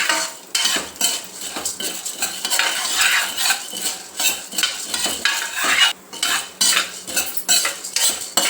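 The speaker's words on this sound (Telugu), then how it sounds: "దీనిలోకి మినపప్పు కూడా వేసి వేయించుకుందాం" Urad dal roasting in a pan while a spoon stirs and scrapes constantly, giving dense metallic clinks and dry rattling grains, close and loud, with no voices.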